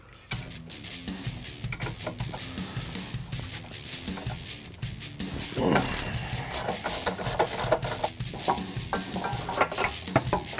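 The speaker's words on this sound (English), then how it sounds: "now we can remove the brackets that hold the sway bar to the subframe" A hand ratchet works loose the sway bar brackets on the subframe of a 2015-2023 Mustang during a Steeda sway bar install, fast repeated clicking bursts, close and fairly loud, with brief pauses between strokes.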